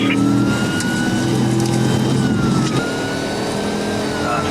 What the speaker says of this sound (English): The vehicle left the stop location and entered the highway, traveling at high speed